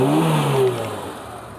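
A 2002 Suzuki Katana 4x4 engine is revved close up, the pitch dropping as the revs fall back toward idle.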